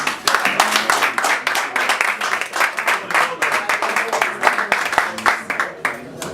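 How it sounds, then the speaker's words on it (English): Audience applause at a school alumni summit in London, a dense, steady run of many hands clapping close by, with faint voices mixed in under it. "So I know we've really clapped for him."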